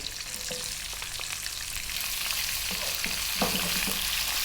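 Onion and curry leaves fry over slightly above medium heat in a pot for lentil dal, giving a steady close sizzle with occasional stirring scrapes and clatters, and no talking.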